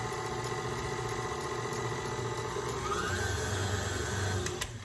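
Electric stand mixer running on a slow setting through protein bread dough, a steady mechanical hum and whir with a faint rhythmic clatter, shifting slightly in tone toward the end.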